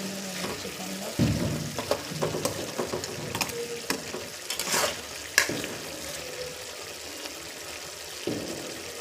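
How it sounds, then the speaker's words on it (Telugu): Chicken simmers and sizzles in a pan while its water cooks off, a steady moist frying hiss broken by a ladle's clinks and scrapes against the pot, close by. "ఇది నీరంతా ఆవిరైనంత వరకు ఇలాగే ఉడికించుకోవాలి"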